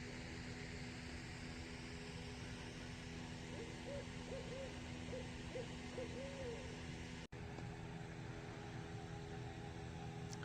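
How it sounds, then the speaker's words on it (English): Faint, distant owl hoots in a short series, barely rising above a steady hiss of background noise. "Don't hear owls very often."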